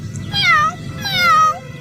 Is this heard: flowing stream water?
no